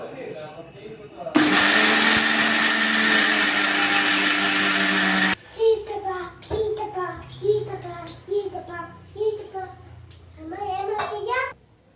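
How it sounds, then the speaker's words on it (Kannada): A kitchen mixer grinder whirs loudly for about four seconds, grinding roasted sesame, gram and peanuts, then cuts off abruptly. Someone talks afterward. "ನಾವು ಹುರಿದಿರೋ ಮಿಶ್ರಣ ಎಲ್ಲ ಹಾಕಿ ಪುಡಿ ಮಾಡಬೇಕು"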